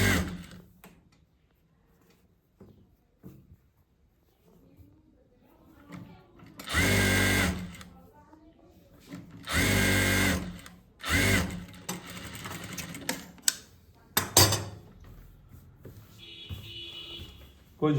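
Sewing machine stitching a chainless belt runs in several short loud bursts separated by pauses, with faint handling sounds and a brief high beep near the end.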